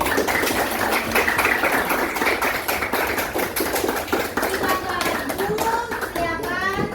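A classroom of students applauds their fellow student groups during a lesson, with loud, continuous rapid clapping filling the room as children's voices rise near the end.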